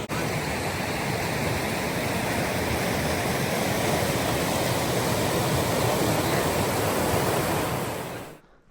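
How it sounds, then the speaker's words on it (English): A waterfall rushes beside a hiking trail in Michigan's Upper Peninsula. The water makes a loud, continuous broadband roar that stays level and then cuts off abruptly at the end. "Looks like there's a nice waterfall up here or something."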